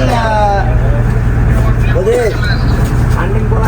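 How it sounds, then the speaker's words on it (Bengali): A trawler boat's engine drones steadily and loudly throughout, a constant low mechanical hum with faint voices and background noise over it. "দাদা আমার কি এটা ভয়েস শোনা যাচ্ছে ট্রলারে আলাদা সাউন্ড"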